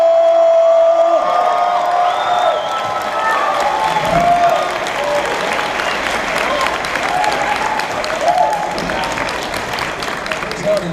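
A comic convention crowd cheers, whoops and applauds loudly for actor Jon Bernthal, a thick, continuous wash of clapping with shouted voices and whistles rising and falling throughout.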